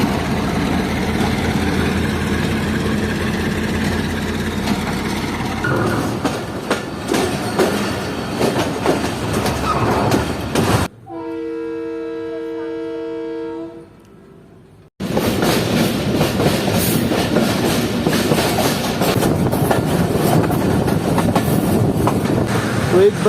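Jand Passenger train rolling along the rails, loud and close with steady clickety-clack and rumble, broken by a short quieter stretch of tonal whine before the heavy running noise resumes.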